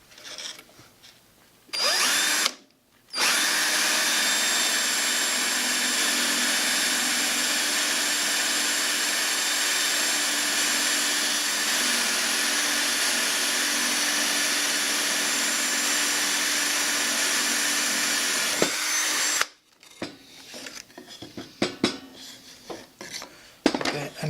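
A Forstner bit bores a hole into wood with a steady drone that runs about fifteen seconds, framed by short clatters of handling before and after.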